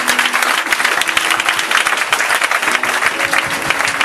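A church congregation applauds continuously, a dense, even patter of many hands clapping close and loud with a few voices mixed in.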